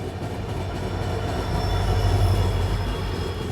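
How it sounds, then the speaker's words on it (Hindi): A diesel-hauled passenger express train rolls by on rails, a steady loud rumble of wagons with faint wheel squeal and clatter, continuous and close throughout. "डीजल लोकोमोटिव लीड कर रहा है इस गाड़ी को।"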